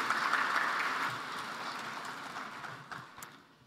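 Audience applause fills a hall at the Africa Energy Summit in Tanzania, a steady wash of clapping that gradually thins and fades toward the end.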